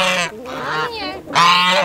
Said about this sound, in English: we have our African geese here that are loud.